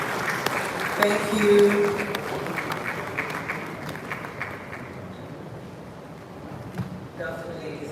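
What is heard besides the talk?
conference audience applause for panel moderator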